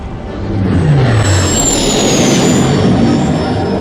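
A failing plane's engine roars loudly and steadily, a dense jet-like rumble that swells within the first half-second and holds, with a high whine above it.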